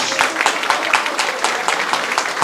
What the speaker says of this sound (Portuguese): Fernando Resch, que aqui eu peço uma salva de palmas.